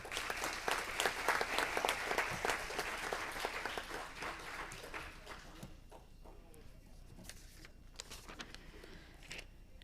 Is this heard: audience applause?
yes